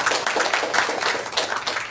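Steady audience applause fills a hall at a Marathi Dhamma seminar and book event, dense continuous clapping from a crowd, fairly loud throughout with no voices over it.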